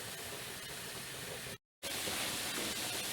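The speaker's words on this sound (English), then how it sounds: "So we're cooking the shrimp without any oil" Steady hissing sizzle of raw shrimp cooking in a hot pan without oil, a constant broadband crackle that cuts out briefly midway and then resumes.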